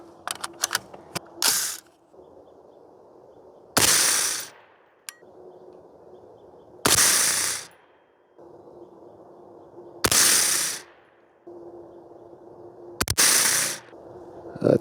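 A 5.56 rifle loaded with WCC brass fires five sharp, loud shots about three seconds apart. Each blast decays quickly into quiet, with a few small clicks at the start.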